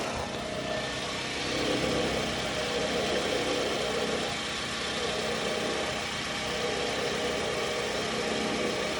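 A 2005 Toyota Camry four-cylinder engine idles after an oil change, a steady, even hum with no talk over it.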